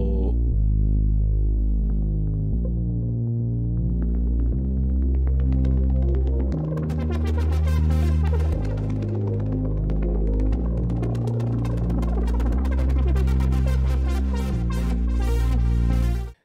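A loud synth patch in Reason, modulated by an LFO through a Combinator macro, pulses in rapid rhythmic steps with shifting pitches and a throbbing, humming low end, growing brighter and busier before stopping abruptly, with no voices.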